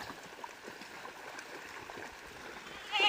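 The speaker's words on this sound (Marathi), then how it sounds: "एवढं पाणी येत आहे" Continuous rushing of a flowing stream deep enough to reach goats' bellies, steady and moderately loud, with a faint goat bleat near the end.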